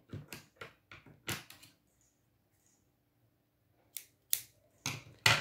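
Sharp scissor snips cut amigurumi yarn, a quick cluster of several crisp clicks followed by a pause, then a few more close snips at the end.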